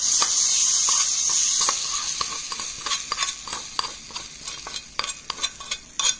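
Turmeric tadka for raw mango dal sizzles steadily in hot oil at first, then a spoon scrapes and clicks through it in quick, uneven strokes, close and fairly loud, with no talking.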